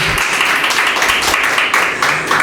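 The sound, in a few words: audience applause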